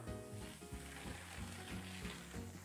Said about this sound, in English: This one is sizzling more.